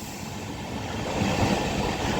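The LHB coaches of the Nagercoil–Gandhidham Express rumble steadily as they roll into Nagercoil Town station, a continuous close rail noise with no voices.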